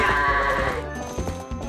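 Goats bleating during the goat-herding minigame of The Legend of Zelda: Twilight Princess, with several overlapping bleats over game music and clip-clop hoof movement, fairly loud and without speech.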